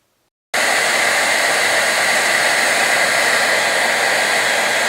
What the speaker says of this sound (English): I'll hit it with the hairdryer